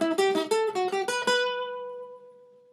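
Electric guitar plays part of the second interlude of a song: a fast run of distinct picked notes, then one sustained note that rings out and decays, with no talking.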